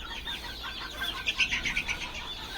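Young guinea fowl chicks on a poultry farm give soft, high chirping calls, loosest at first and then a quick run of peeps close by, with no voices.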